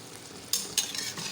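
Eggplant and minced pork stir-fry hisses steadily in a hot pan, with two sharp scrape-and-sizzle bursts as the spatula tosses the vegetables, no voices over it.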